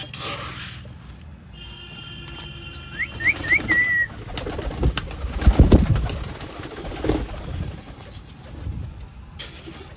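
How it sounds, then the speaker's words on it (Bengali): Pigeons in a home loft gather at feeding time, soft cooing and a few short chirping calls mixed with fluttering wings and small knocks, moderately close, with quieter stretches at the start and end. "সব পায়রা চলে এসছে খাওয়ার জন্য"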